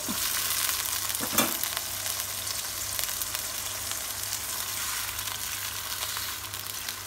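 Tofu frying in a pan with thinly sliced spices, a steady dense sizzle that carries on without a break, with one brief clink of a utensil near the start.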